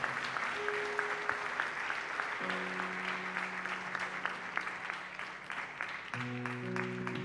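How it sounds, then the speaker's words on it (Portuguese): A church congregation at a Seventh-day Adventist service claps together in sustained, even applause from start to finish, while low sustained organ or keyboard tones sound underneath. "Uma salva de palmas, porque o Senhor foi vitorioso"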